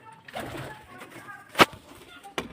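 A pigeon coos in short, soft bursts close by, mixed with murmured talk and a sharp sound near the end.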